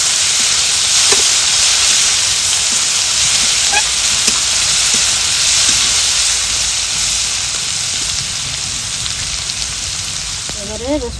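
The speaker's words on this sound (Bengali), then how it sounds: "তেল গরম হয়ে গেছে, দিয়ে দিব রসুন আর শুকনো লঙ্কা থেতো করে রাখা।" Crushed garlic and dried chillies fry in hot oil, a loud, steady sizzle with occasional pops and stirring clicks running through the whole stretch.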